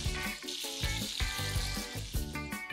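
Vegetable handi premix fries in a pan with oil and tomato puree, giving a dense, continuous bubbling sizzle close by, fairly even throughout with no voices.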